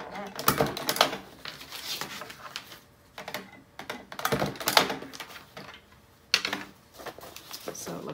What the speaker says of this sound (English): you're just going to put in 2 or 3 staples with your long arm stapler